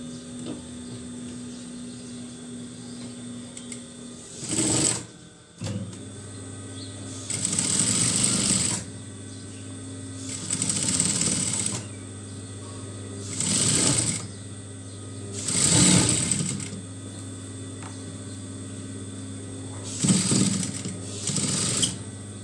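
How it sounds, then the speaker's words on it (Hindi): Sewing machine stitching button loops on a kameez: several short bursts of machine stitching spaced through a steady low hum, moderately close with no voices. "हम यहाँ पर सिलाई लगा लेंगे।"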